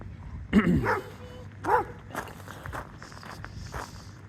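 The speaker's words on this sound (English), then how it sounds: "We got our favorite neighborhood barking dogs, which we love for this purpose." Neighborhood dogs bark in a few sharp, scattered bursts at a moderate distance, with footsteps and quiet rustling between the barks.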